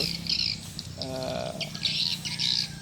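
Swiftlets outside a swiftlet house give short repeated high chirps in bursts, moderately close, with a brief lower warbling call in the middle and no talk.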